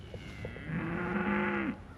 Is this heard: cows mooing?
yes